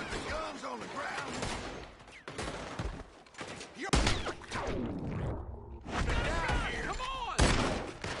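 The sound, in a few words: gunfire in Red Dead Redemption 2 video game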